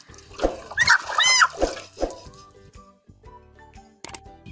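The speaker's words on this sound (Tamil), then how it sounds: "இதை பிடிச்சி நல்லா நல்ல தண்ணியில் முக்கிடுவோம்" A chicken is dunked in water as a lice treatment, with close splashing and sloshing bursts and squawk-like cries at the start, followed by quieter dripping and small knocks.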